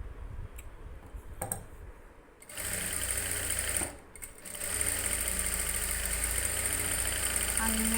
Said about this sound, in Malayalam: അങ്ങേ അറ്റം വരെ ഒന്ന് തയ്ച്ചെടുക്കണം